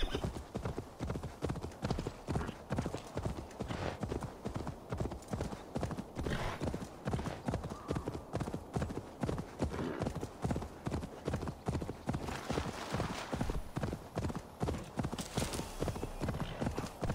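Horse hooves clip-clopping in Assassin's Creed Valhalla, a rapid, steady run of hoof strikes through the whole stretch with occasional snorts or whinnies mixed in.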